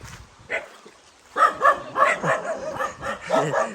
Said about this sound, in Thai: หมาเห่าใหญ่เลย